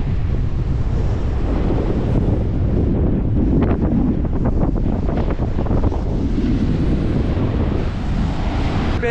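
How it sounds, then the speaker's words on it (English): Strong wind on top of coastal dunes near Coffin Bay, loud continuous buffeting rumble battering the microphone, with surf roaring beneath, no speech. "Woo, she's windy."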